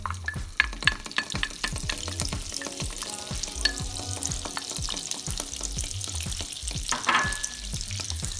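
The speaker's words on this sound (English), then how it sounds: "put in your butter and your olive oil" Butter and olive oil melting and sizzling in a pan or wok over medium heat, a busy, close crackle with frequent small pops and scraping stirs throughout.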